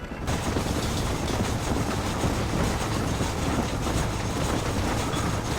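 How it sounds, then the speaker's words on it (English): A train runs along the tracks in the Red Dead Redemption video game, a loud continuous rumble with rhythmic clatter and mechanical rattling heard steadily throughout. "There's a train leaving Chuparosa soon."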